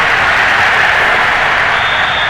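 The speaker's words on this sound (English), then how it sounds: "And the home crowd applauding." A home crowd in Madden NFL 22 applauds loudly and steadily, a dense wash of clapping that fills the whole stretch without pause.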